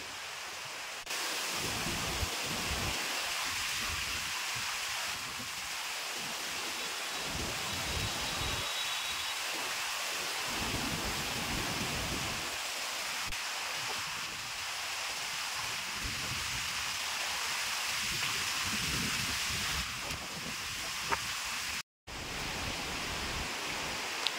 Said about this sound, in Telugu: ఇప్పుడు దాకా బాగానే ఉంది, సడన్గా వర్షం స్టార్ట్ అయిపోయిందండి.